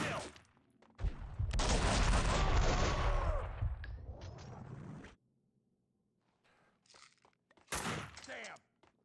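Dense, loud gunfire from the Max Payne 2 video game pours out in a continuous volley for several seconds, then returns in a few shorter, scattered bursts after a near-silent gap.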